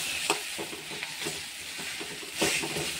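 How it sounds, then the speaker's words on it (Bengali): Spice paste sizzling and frying in oil in a pan while being stirred for a Bengali tengra fish curry, with steady crackle and repeated scraping stir strokes, close and moderately loud. "ভালো করে নেড়ে নেব যতক্ষণ না তেলটা না বেরিয়ে যাচ্ছে মশলার থেকে"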